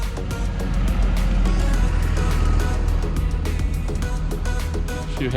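A bus on Rottnest Island gives off a close, steady low engine rumble that lasts the whole time, with light clicking and rattles on top.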